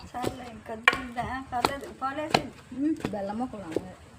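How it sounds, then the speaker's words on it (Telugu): Sesame and jaggery are pounded in a stone mortar with about six heavy, evenly spaced thuds, roughly one every two-thirds of a second, while people talk over the blows nearby. "ఇక సిమ్మిడి దంచుతున్నారు"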